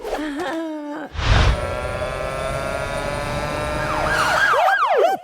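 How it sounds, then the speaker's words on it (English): A wailing siren in an animated comedy, loud and close, holding a long steady tone and then breaking into rising and falling sweeps toward the end. "That's the sound of the police!"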